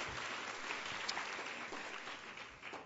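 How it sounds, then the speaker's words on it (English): A conference audience breaks into sustained applause, a dense, steady wash of clapping from a crowd in a hall that holds evenly for a few seconds before beginning to thin out. "we all really do owe them a round of applause"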